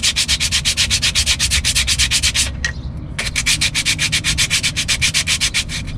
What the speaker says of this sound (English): the face of the pad, we'll give it a little scuff up